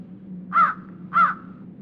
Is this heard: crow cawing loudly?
yes